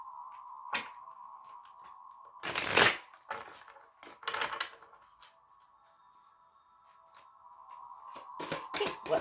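Tarot and oracle cards are shuffled in a few brisk bursts, with crisp riffles and flicks standing out against a steady faint tone running underneath, and quieter gaps falling between the bursts.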